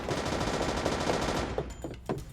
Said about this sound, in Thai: เสียงปืนข้างหน้าเรา